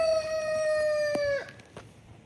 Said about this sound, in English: I'm gonna kill that freaking rooster.